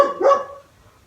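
A dog barks once, a single close, sharp bark that quickly fades, heard in a woodturning workshop.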